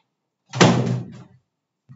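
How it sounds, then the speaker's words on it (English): A door thuds shut once, close and fairly loud, its short boom fading within about a second, followed by a brief faint knock. "close the door."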